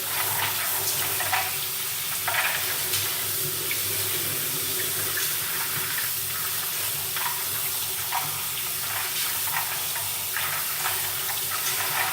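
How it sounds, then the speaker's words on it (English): Tap water running over nuts in a colander with large holes, a steady hiss and splatter of water through the metal, continuous with small irregular bursts and no talking. "My colander has a lot of big holes, so the water goes right through."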